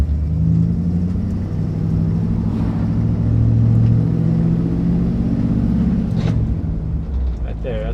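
A 1963 Chevrolet Impala with a transmission fault under way, its engine a loud, steady low rumble rising slightly as it pulls through gears, with someone talking over it.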